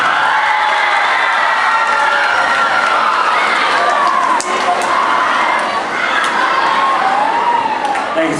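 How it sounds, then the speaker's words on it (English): An audience at a leadership conference breaks into loud, sustained applause mixed with cheering and whoops, a dense crowd roar that continues unbroken throughout. "Give him a big round of applause."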